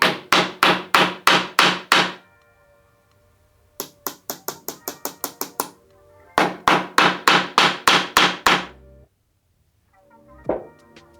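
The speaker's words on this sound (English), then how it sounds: "I'm also just hammering them up at an angle." Rapid hammer strikes ring out in three quick bursts of about eight to ten blows each, loud and close, separated by short pauses, with a last few softer taps while hanging mounts at an angle for a light stand.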